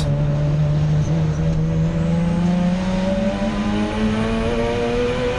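Racing cars at Donington Park, among them a plain white Honda Civic numbered 118, roar steadily and loudly in a sustained engine drone that climbs gradually in pitch throughout.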